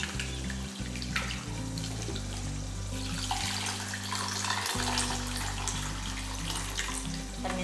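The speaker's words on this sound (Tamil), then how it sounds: "தண்ணி ஊற்றியாச்சு." Water pours steadily into a cooking pot while paruppu rasam is made, a continuous splashing rush lasting the whole stretch over background music.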